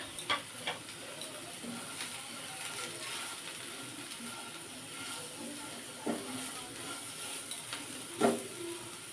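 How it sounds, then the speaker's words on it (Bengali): Potatoes frying in a pan, a faint steady sizzle and hiss broken by occasional light scrapes and clicks of a stirring utensil, the loudest one near the end. "আলুটা ভালো করে লাল লাল করে ভেজে নেবো"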